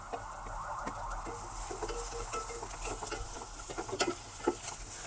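Crushed garlic and curry leaves hit hot oil in a pan for tamarind rasam, a soft crackling sizzle with light popping and spluttering pats that grow slightly busier toward the end, heard up close without talk.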